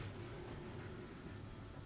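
Steady rain falling during a thunderstorm, a soft continuous hiss with a low rumbling bed underneath, faint and even throughout with no voices.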